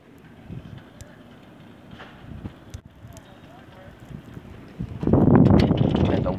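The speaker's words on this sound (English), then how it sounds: "Wind is starting to pick up." Wind from a snowstorm rumbles low and steady, then surges into a louder blustery gust near the end, mixed with a person talking.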